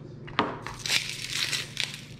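Papery onion skin being peeled off by hand in a kitchen, a few dry crackling, crinkling bursts close by with short pauses between them.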